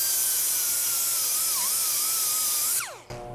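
A right angle die grinder with a WORKPRO sanding disc grinds tough paint off metal in a loud, steady high whine that dips briefly once, then spins down and cuts off at the end.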